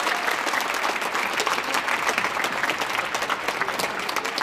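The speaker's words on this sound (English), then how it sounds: "So a round of applause for them a year later." An audience applauds at a holiday pops choir concert, dense sustained clapping that fills the hall evenly with no voices heard.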